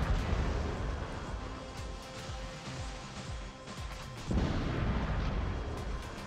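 Rockets fire and explode in the War Robots video game, a continuous rumbling barrage of blasts and crackle, fairly faint, with a heavier surge of explosions near the end.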